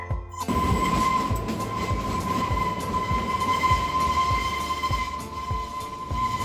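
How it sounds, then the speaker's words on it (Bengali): Kalka Shimla Express train rumbling through its first tunnel, a loud, continuous clattering roar of wheels on rails with steady metallic rhythm and a sustained ringing tone, enclosed and close throughout. "This is the first tunnel in কালকা Shimla express and it is totally dark."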